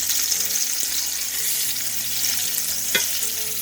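Flour-dusted pork cutlets fry in a pan with a loud, steady, close sizzle and crackle throughout, with one brief sharper spatter near the end.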